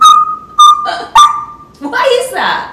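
An African grey parrot whistles in clear, sustained tones and short chirpy bursts, up close, mixed with squawky vocal imitations that resemble speech.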